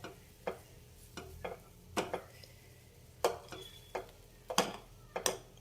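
A spoon stirring oats in hot milk in a pot over a low flame gives sharp scraping clinks against the metal at an irregular pace over a soft background hiss.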